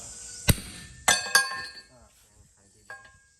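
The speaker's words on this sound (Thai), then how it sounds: "ทุบทุบขอบยางไว้ก่อน" Sharp metallic strikes ring out close by, four separate hammer blows on a tractor tire bead with irregular spacing, each leaving a bright ringing tail.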